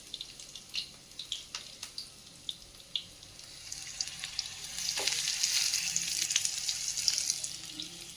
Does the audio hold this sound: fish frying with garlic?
yes